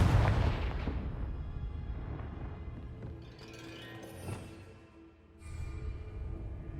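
Confringo fire spell cast in Hogwarts Legacy: a heavy booming blast that opens loudly and rumbles away, followed by fainter crackling bursts and a low ringing tail.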